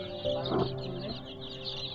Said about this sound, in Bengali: যেগুলো আমরা দেশি মুরগি বলি সেই মুরগিগুলো আছে